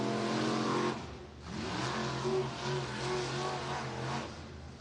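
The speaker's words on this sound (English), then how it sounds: "that's how they will finish their hot lap sessions here at Santa Maria Speedway" IMCA SportMod race cars wind down hot laps at Santa Maria Speedway in Nipomo, California, engines roaring close by with rising and falling pitch as cars pass, a brief lull near the start before the noise returns.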